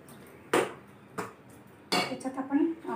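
A spoon knocks and scrapes against a metal pot while milk is stirred for dudhi halwa, with three sharp clanks spaced apart followed by a rattling scrape, close and fairly quiet.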